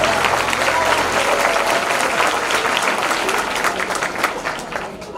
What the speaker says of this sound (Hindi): ताली बजाइए, यहाँ से अपना काम लगा।